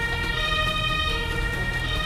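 A synthetic ambulance siren wails steadily and loudly, a sustained electronic tone from the PC game Emergency, with no pauses.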